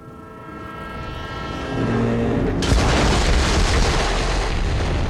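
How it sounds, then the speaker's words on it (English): An explosion in the video game Borderlands 3 swells as a rising rumble, then bursts into a loud, broad roaring boom that keeps rolling to the end. "The explosion echoed through the forest"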